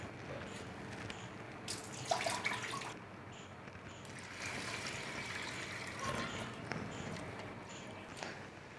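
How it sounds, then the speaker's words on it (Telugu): Soaked lentils being rinsed in drinking water for sweet stuffed fritters, with soft sloshing and pouring through the clip and a few louder splashy bursts. "ఒక 2 సార్లు మంచి తాగే వాటర్తో కడిగి పెట్టుకోవాలి."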